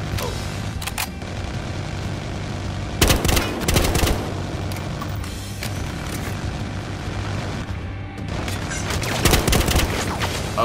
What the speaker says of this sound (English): I'm kind of busy shooting people